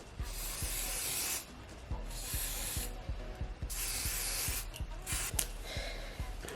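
Repeated bursts of aerosol hair spray hiss loudly in several long pulses, close by, with faint rubbing and tapping between them.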